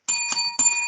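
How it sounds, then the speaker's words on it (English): A bell rings three times in a quick, even sequence, loud and close with a bright sustained ring, marking the end of a wrestling podcast; no one speaks. "There's the bell, so we know what that means."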